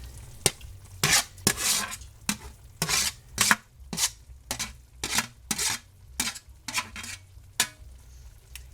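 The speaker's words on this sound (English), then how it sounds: "Now we are going to add our chilies." A spoon scrapes and clatters against a pot over and over as chilies are stirred into cooking meat for chili verde, in sharp irregular strokes over a soft background sizzle.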